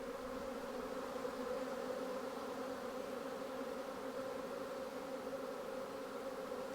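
Dense, steady buzzing of many honey bees around a swarm, a continuous droning hum with no breaks, moderately loud and surrounding.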